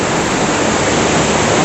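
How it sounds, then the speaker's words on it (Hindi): Fast-flowing jungle stream on a trek, its water rushing in a loud, steady, broadband roar that stays constant throughout with no voices. "पानी का फोर्स देखो, बहुत तेज है।"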